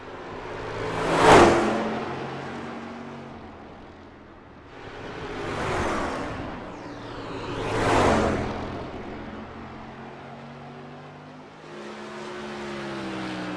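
Silver Crown open-wheel race cars in the iRacing simulation roar past one after another, each engine swelling to a loud pass and fading, with a steady engine drone between passes.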